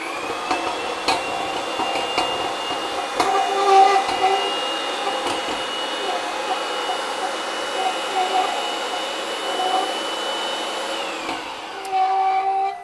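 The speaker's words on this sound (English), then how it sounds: "I'm going to step back to my step pedal here, and I'm going to jog the pipe." Pipe grooving machine turning a 6-inch seamed pipe, a continuous mechanical whine with rhythmic metallic clanks and taps as the pipe rotates, close and loud before winding down near the end.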